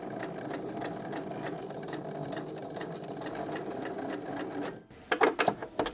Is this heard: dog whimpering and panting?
no